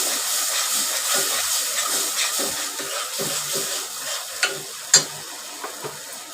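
Spices for an egg curry tempering sizzle steadily in hot oil, with a spoon scraping and stirring around the pan in repeated strokes and a few sharp clinks near the end.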